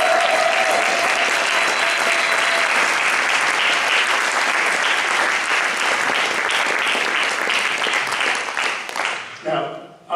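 At an international variety show, an audience applauds after a sung performance, loud and continuous for about nine seconds before tapering off as a voice begins.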